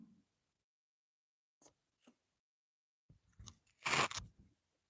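Close crunchy bites and chewing of a taco from a street taco truck, a few quiet crunches early on, then a denser, louder burst of crisp chewing near the end, with no talk.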